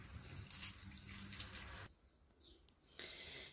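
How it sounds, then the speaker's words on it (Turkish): A faucet runs steadily while African violet leaves are washed, a loud, close rush of splashing water that briefly drops away to quieter trickling before the flow returns. "Evet, menekşelerimizi yıkadık."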